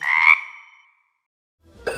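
A tree frog gives one bright, rasping croak that trails off into silence, followed by the start of another call near the end, close and loud with nothing else around it.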